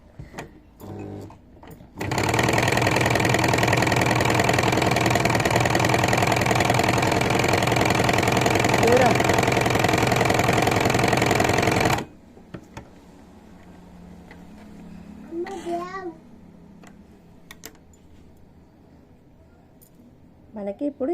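A sewing machine stitches a blouse in one loud, continuous run of about ten seconds, then stops, leaving quieter room sound and a brief voice.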